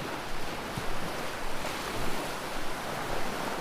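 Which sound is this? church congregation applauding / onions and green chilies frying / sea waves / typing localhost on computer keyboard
sea waves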